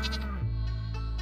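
A goat on a Stardew Valley farm bleats in a couple of wavering, nasal cries, clear and close, with no voices over it.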